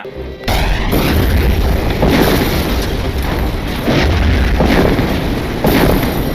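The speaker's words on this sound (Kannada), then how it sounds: "ನೆಕ್ಸ್ಟ್ ನಮ್ಮಣ್ಣ ಇಡೀ ಫೋರ್ಟ್ನೇ ಬ್ಲಾಸ್ಟ್ ಮಾಡ್ಬಿಡ್ತಾನ" A heavy, booming explosion as an entire fort is blown up in the film MSG rumbles deep and loud, followed by repeated rolling blasts that keep the low roar going throughout.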